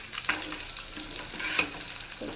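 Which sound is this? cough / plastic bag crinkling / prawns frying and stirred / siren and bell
prawns frying and stirred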